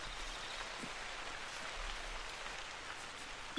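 Steady rain hisses and patters across the whole moment in the hunting game theHunter: Call of the Wild, a continuous, fairly soft wash with a faint low rumble underneath and no talking.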